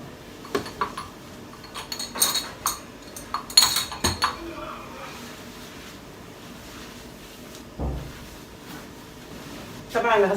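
A dough-kneading bowl is cleaned with scattered clinks and knocks of metal and dishware, close and intermittent over a quiet room, with a louder scrape near the end.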